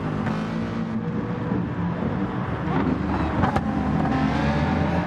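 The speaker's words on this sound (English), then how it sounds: "A few cars coming out of pit lane" Race cars in the Gran Turismo Sport game at Red Bull Ring, in a manufacturer series race, drone steadily as several engines run together near the pit lane exit, loud and continuous with a rushing wind-like wash.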